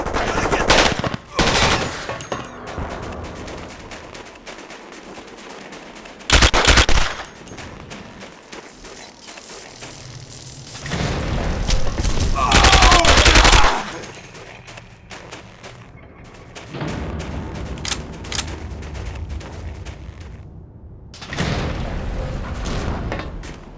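Gunfire in the tactical shooter video game SAS: Secure Tomorrow comes in repeated loud bursts of automatic rifle fire and sharp shots, separated by quieter gaps of battlefield noise, with occasional voices in the mix.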